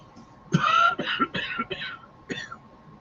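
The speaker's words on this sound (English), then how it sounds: "Please pardon the coughing" A sick man coughs several times in a quick cluster, close and fairly loud, a few harsh bursts fading into a last single cough.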